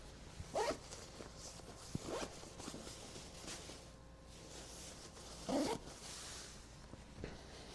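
The zipper of an outdoor jacket is pulled in three quick, faint rasping runs separated by pauses, heard close over a quiet room hiss.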